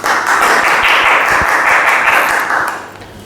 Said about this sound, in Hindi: तो जोरदार तालियों से स्वागत करिए हमारे मौर्य सर का।